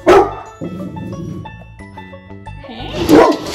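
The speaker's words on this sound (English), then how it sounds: "He's gonna bark bark like crazy." A dog barks loudly at close range, two sharp bursts at the start and end with quieter whining between them, over a faint musical background.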